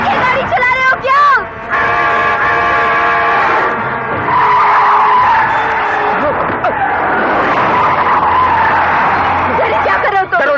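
Tires skid and squeal in long, rising and falling screeches as a car is driven recklessly, loud and close, with excited voices calling out over the noise.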